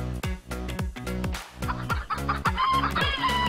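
Chickens cluck and call loudly and repeatedly in a busy chorus, close by, with a rooster-like crow rising near the end.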